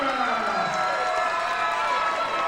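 A crowd at a fight event cheers and applauds for a fighter, a dense sustained roar of clapping and shouting that holds steady for the whole moment.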